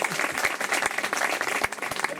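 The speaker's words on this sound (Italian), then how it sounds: "Un applauso." An audience at a public talk breaks into dense, lively applause, many hands clapping close and loud without pause, with a voice faintly audible beneath it.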